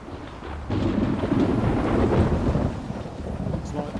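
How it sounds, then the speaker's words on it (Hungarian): A thunderstorm with rain, where a loud, deep rumble of thunder rolls in and sustains over a steady hiss of rainfall, close and heavy, with no voices. "Az időjárás folyamatosan rosszabbra fordul. Már az eső is esik."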